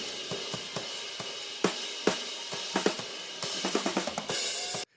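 Drum overhead mics with a low cut around 400 to 500 Hz give a thin kit of sharp, bright hits and cymbal wash, with little low end and a fairly quick rhythm.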